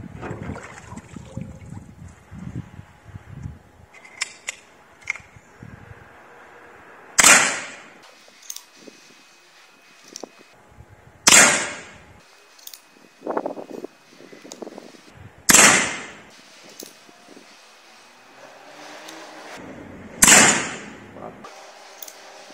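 A PCP air rifle charged to 250 bar fires four sharp, loud shots spaced several seconds apart, with handling clatter and a voice speaking between them.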